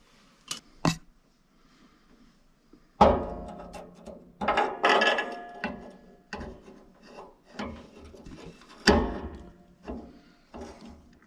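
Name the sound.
pellet stove auger turning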